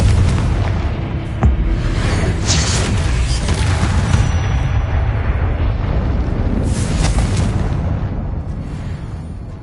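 Confringo blasting spell going off in Hogwarts Legacy, a loud continuous rumbling blast with booming low end and crackling bursts that roll on for several seconds without fading much.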